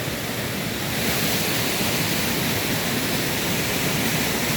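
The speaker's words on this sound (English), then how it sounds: "The waterfall keeps going down here." A jungle waterfall near Chiang Mai, Thailand roars in a loud, dense, unbroken rush of falling water, close by and alone, with no voices.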